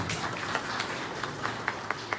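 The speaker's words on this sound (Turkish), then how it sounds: "bir alkış lazım sana da olmuşsun yani" A meeting crowd applauds at the promotional launch of Burmalı Çörek pastry. Dense, steady clapping fills the room with a few sharper claps standing out, and faint voices underneath.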